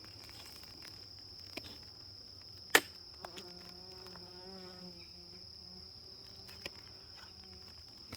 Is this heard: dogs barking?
no